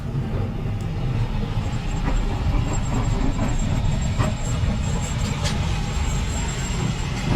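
Steady rumble of trams rolling through dual gauge tramway points on a busy running day, continuous low-frequency noise with faint metallic squeals and a few wheel clicks, no speech.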